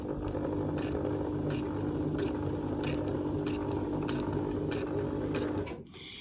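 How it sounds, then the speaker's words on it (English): A sewing machine stitches straight through a paper star garland, a steady close mechanical whir with light ticking that runs continuously for about six seconds before cutting off. "So I'm just going to stitch straight down, straight through to the bottom of this star."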